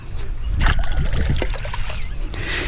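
Water trickles and splashes steadily as it drains out of a rice paddy field, with a faint low rumble and occasional splashy bursts close by.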